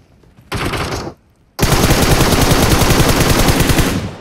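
An ACE32 rifle fires in PUBG Mobile, first in a short loud automatic burst, then after a brief pause in a longer, sustained rapid stream of close, heavy shots.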